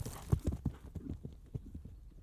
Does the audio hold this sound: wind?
no